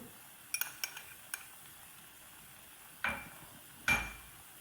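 A spoon taps and clinks in a pan as tomatoes and green chillies are mixed into masala noodles, giving several light, fairly quiet knocks followed by two louder clanks.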